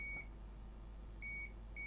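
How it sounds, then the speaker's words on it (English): A multimeter in continuity mode gives short electronic beeps while probing Nintendo Switch circuit board points, one brief tone then a longer steady beep, quiet and alone. "Okay, so we've got a beep mode."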